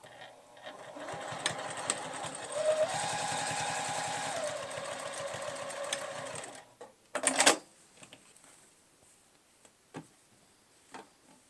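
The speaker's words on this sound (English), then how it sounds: "So next I'm going to sew down at 1/4 of an inch." A sewing machine runs steadily, stitching a quarter-inch seam in fabric for storage bins, then stops and leaves a few faint clicks and taps.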